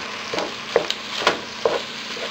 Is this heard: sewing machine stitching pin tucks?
no